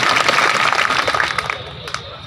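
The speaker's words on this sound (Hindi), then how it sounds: "तो उनके लिए भी एक बार जोरदार तालियां" Audience applause at a Birsa Munda Jayanti gathering in Bori, Alirajpur, Madhya Pradesh: dense, steady clapping from a seated crowd, fairly loud at first, then thinning and fading over about two seconds.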